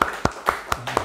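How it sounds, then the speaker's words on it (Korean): Four sharp hand claps ring out at an even, unhurried pace in a church room, spaced about a quarter second apart, close and fairly loud with faint room tone between them. "아골라를 위해서 박수를 한번 칩시다."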